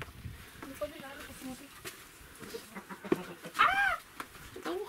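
A hen clucks and cackles in short bursts after laying an egg, with loud squawks near the end, while people talk nearby in a village farmyard.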